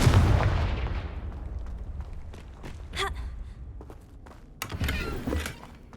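A Confringo fire spell explosion in the video game Hogwarts Legacy, a heavy boom that fades out, followed by lighter impacts and a second rumbling burst.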